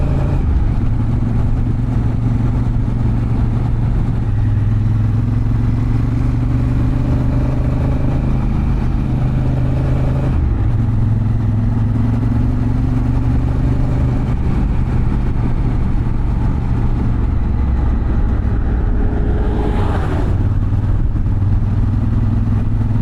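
A motorcycle rides through Slovenia along a road running almost beneath a rock wall. Its engine drones loud and close, with a steady pitch that shifts slightly as it rolls on, under constant wind rumble.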